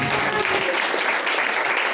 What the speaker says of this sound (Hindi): जोरदार ताली बजाए उस महान प्रभु के लिए।